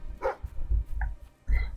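A dog in the video game Fable III gives about three short, sharp barks or yips, spaced out over a couple of seconds and heard fairly close, with no talk over them.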